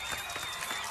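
Studio audience applause welcoming a doctor on a television talk show about medicine, a steady dense patter of many hands clapping at moderate level for about a second, with no speech over it.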